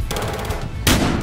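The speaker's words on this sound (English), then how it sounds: "Ooh, shotgun. Nice upgrade. The 870P Magnum." A Remington 870P Magnum shotgun fires in the Battlefield Hardline video game, with two loud, sharp blasts heard in quick succession, close and alone.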